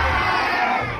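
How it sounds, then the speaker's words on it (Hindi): Crowd of students in a tutoring class in Malad Malvani shouting excitedly together, a loud sustained roar of many young voices lasting the whole moment. "अरे जब से चिल्ला रहे थे आपकी आवाज ही नहीं है"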